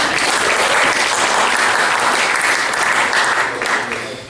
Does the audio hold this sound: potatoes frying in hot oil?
no